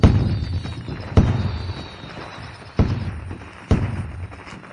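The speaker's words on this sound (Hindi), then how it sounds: "आतिशबाजी।" Fireworks go off in a row of four deep booming bursts, each a sharp thump followed by a rumbling decay, spaced unevenly over a few seconds and sounding fairly distant, with no voices.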